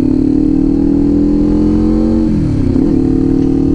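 A Kawasaki Ninja 500 with an SC Project open-pipe exhaust runs loud and close with a deep, steady engine drone. Partway through, the pitch dips and wavers briefly before it settles again.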